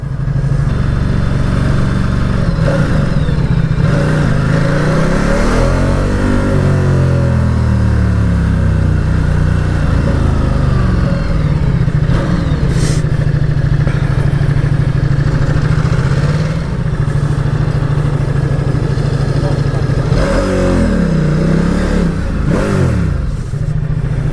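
A 2019 Ducati Diavel 1260S motorcycle on a road ride rumbles loudly and close, its engine rising in pitch in clear revving sweeps around a steady throbbing idle, with no voices.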